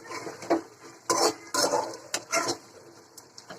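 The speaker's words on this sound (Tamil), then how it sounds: "பார்த்து கிண்டுங்க, மஞ்சள் கரு உடஞ்சிடும்." A spoon stirs egg kurma in a cooking pot, giving several distinct scraping strokes against the metal at an uneven pace, close and fairly loud, with no voices.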